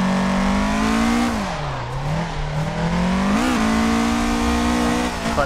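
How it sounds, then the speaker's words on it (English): Car engine drones loudly in Assetto Corsa as the e-brake is pulled, revs dipping then climbing again with a harsh tire squeal mixed into the steady roar, no talk. "Quick e-brake pull there."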